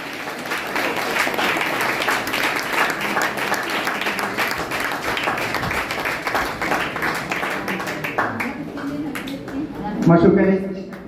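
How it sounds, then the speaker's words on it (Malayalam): A crowd at a 2024 expatriate association stage event claps in a dense, sustained burst that tapers off as a voice speaks over a microphone near the end. "നല്ലൊരു കയ്യടി"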